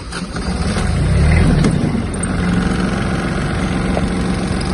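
A Kubota A-17 mini tractor with a glow-plug diesel catches and settles into a steady, loud, low idle, rumbling close by with a slight surge at the start; no talking.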